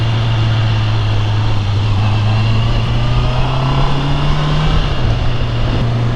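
Honda CB650R motorcycle riding slowly, a steady, loud engine drone with a constant low hum that dips slightly near the end, heard alone without talk.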